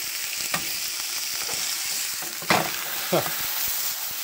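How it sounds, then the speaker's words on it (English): Marinated pork tenderloin sears in a hot pan with a continuous sizzle, broken by a few louder hissing bursts as the meat is turned, close up. "So I want to get as many sides to this as I can seared off before we go into step 2 here."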